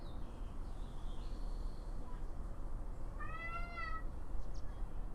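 A kitten gives a single clear meow midway through, close and fairly soft, over quiet steady room noise.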